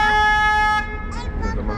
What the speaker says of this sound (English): just in case there's any cross traffic here, I have to honk the horn.